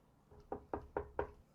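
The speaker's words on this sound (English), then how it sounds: "movement and like a tapping back on the door, like a frantic tapping" Four quick, evenly spaced knocks on a closed door, fairly faint and dull, tapped in a hurried rhythm with nothing else over them.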